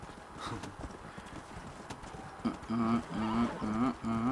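Horse hooves clip-clop in a steady galloping rhythm in the open-world western game Red Dead Redemption, close and prominent, with a voice speaking over the second half.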